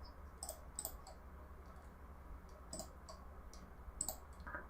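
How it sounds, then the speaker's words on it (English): A clicky computer keyboard is typed on in short, scattered bursts of sharp clicks, faint against a quiet room hum. "Maybe if my keyboard wasn't so goddamn clickety-clacky."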